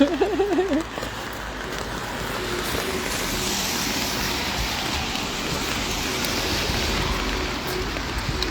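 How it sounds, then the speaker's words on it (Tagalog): Steady rain pattering across the whole stretch, with a brief voice at the very start before the hiss settles into an even wash. "It's still raining."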